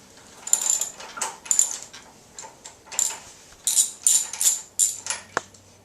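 A ratchet fitted with a 13/16 spark plug socket works a lawn mower's spark plug loose, a close series of quick clicking bursts in irregular strokes, with no voices.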